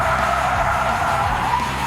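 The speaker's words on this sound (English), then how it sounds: "Then things really get out of control with a 180-degree spin out using the handbrake." A car skids through a 180-degree handbrake spin-out, tires hissing and scrubbing in a continuous loud slide over the engine's low drone, with no voices.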